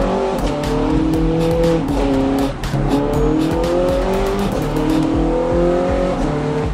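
A sports car resembling a Ferrari 430 Scuderia drives hard on an open road, its engine loud and close, rising and falling through repeated revs and gear changes, with brief tyre noise and no talking.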